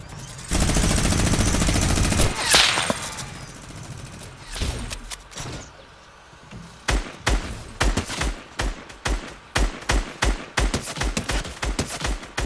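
Gunfire in Fortnite: a long continuous burst of automatic fire, then after a short lull a rapid string of sharp, loud single shots in quick rhythm.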